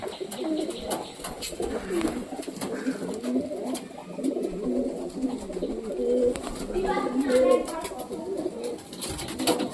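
Several pigeons coo softly in repeated low, throaty calls from a tree after rain, while people chat nearby over a faint outdoor background.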